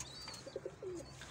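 A young pigeon gives a few soft, short coos close by, faint over a quiet room hum.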